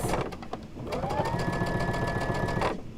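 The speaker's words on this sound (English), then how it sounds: "So I'm going to sew these together, the top and bottom rows" A sewing machine stitches rows of a quilt block together for a wildflower fields quilt, running in one steady, close, fairly loud burst after a short start and then stopping, with no talk.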